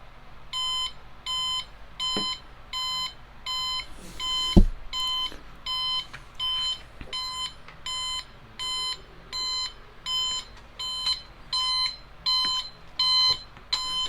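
A cheap $3 Wal-Mart alarm clock beeps in steady repeating electronic bursts, each a quick cluster of shrill tones, evenly spaced about once a second at moderate volume with faint room noise and a single knock partway through.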